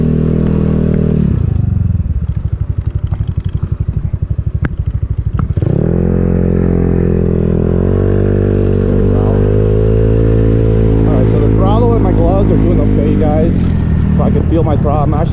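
A Znen ZN150T-9 GY6 150cc scooter engine runs at idle, then rises into a steady, loud drone as the throttle opens and the bike rides along, with a voice talking over it.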